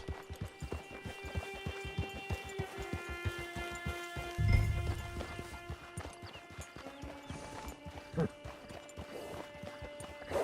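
Horse hooves clip-clop in a steady rhythmic trot in Red Dead Redemption 2, close and clear under sustained background music, with a heavier thud partway through.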